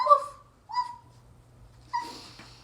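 A voice imitates a dog with a few short woofs, spaced apart, fairly soft against a quiet background.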